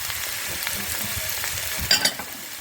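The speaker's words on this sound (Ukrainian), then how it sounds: "І добряче перемішаємо." Grated carrot being stirred into a pot of mushroom soup with garlic, a soft continuous sizzle with scraping stirs and two louder clatters near the end, close and without talk.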